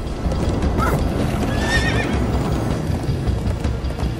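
Horses whinny loudly over rapid clip-clopping hooves, a dense, constant galloping rush with a sharp neigh rising in the middle; no voices. From the video game Minecraft: Story Mode.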